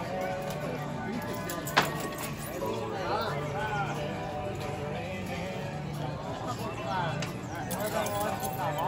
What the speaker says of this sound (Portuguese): Olha que linda carroça com esse cavalo.